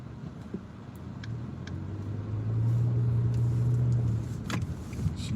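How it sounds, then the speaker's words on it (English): A car idles and creeps through congested freeway traffic, a steady low engine rumble that rises in the middle with a faint droning tone, plus small cabin clicks and rattles; no one speaks. "still being stuck in traffic on that freeway"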